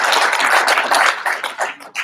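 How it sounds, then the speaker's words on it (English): Audience applause at an ethical leadership summit, a short burst of dense clapping that thins out and trails off toward the end. "So a big round of applause for all of you as well."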